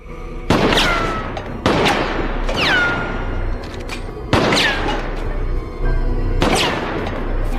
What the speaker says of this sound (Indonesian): Sementara tembakan dari Natalie berhasil menjatuhkan semua kalengnya.